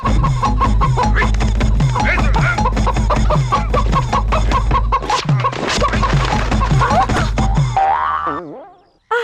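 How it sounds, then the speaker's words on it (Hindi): Chickens cluck loudly in a village farmyard during a comedy film scene, mixed with springy boing effects and busy background sound before it cuts off abruptly near the end. "अरे करीम, ये ब्रिटिश लोग हमारे मुर्गियों के पीछे पड़ गए"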